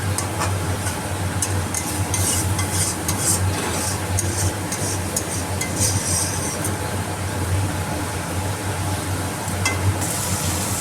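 Spice paste for a vegetarian pointed gourd curry sizzles with water in a pan over high flame, making a steady, continuous hiss with faint crackles over a constant low hum.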